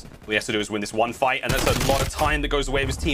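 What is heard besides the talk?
gunshots in Call of Duty video game match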